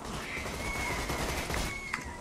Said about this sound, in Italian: Il cactus mi sta sparando.